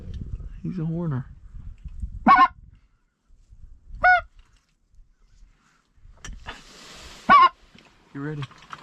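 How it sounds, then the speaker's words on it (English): Blue geese call over a rainy Louisiana dry rice field during a goose hunt, giving several loud, spaced honks and lower yelps, with people talking quietly in between. "Same Blue Goose."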